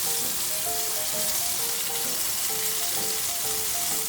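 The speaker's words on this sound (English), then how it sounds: "start frying them really gently." Steady, dense sizzling of keto French fries frying gently in a pan, a continuous crackling hiss with no voices.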